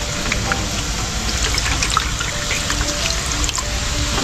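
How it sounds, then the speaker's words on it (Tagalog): Steady trickling water that sounds like rain, continuous and fairly close, with soft splashes and no talk over it. "Parang ulan, tubig ah."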